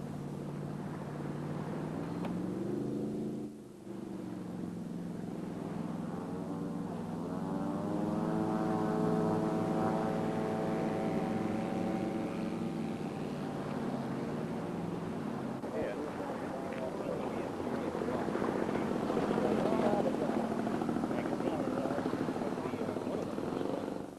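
Float plane engine droning over a rough, choppy lake, a steady propeller buzz whose pitch shifts as the plane pounds across the waves, with splashing and rushing water noise growing louder toward the end.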